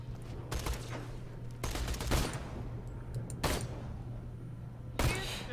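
Bursts of gunfire from the video game Borderlands 2 come in four short volleys, loud and sharp over a steady electronic hum, with no talk.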